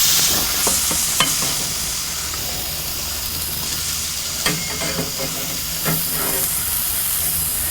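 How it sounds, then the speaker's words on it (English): Tuna steaks sizzle steadily on a Kamado Joe grill, a constant bright hiss with a few sharp crackles and scraping clicks as the fish is flipped, close and alone. "so we're going to flip these fish"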